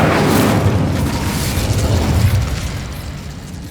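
The Incendio fire spell bursts out in Hogwarts Legacy with a loud, roaring whoosh of flame that starts hard and rumbles on steadily before slowly fading, with no other sounds on top.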